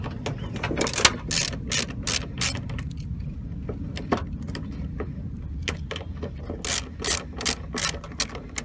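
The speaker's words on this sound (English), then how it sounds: "This particular one's not coming off so easily, so I'm going to use the ratchet again." A hand ratchet loosens a stubborn fastener on the door of a 2007-2013 GM truck, giving quick, irregular runs of sharp clicking over low mechanical rustle. The ratchet sounds close and keeps on for several seconds.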